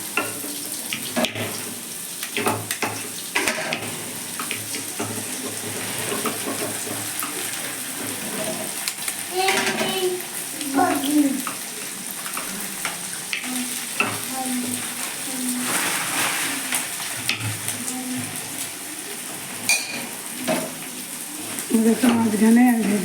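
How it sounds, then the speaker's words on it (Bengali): Oil sizzles in a pan as chira pulao is cooked, with a hollow cleared in the middle for frying, soft crackling under scattered clinks and stirring, and a voice talking intermittently. "দেখুন মাঝখানে ভেজে নিচ্ছি।"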